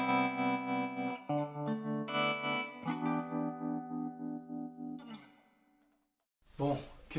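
Electric guitar played through an Eagletone Aero 8 V2 small practice amp's built-in multi-effects (phaser, flanger, delay, reverb, tremolo): several sustained, shimmering processed chords ring out and fade to silence, then a brief loud strum.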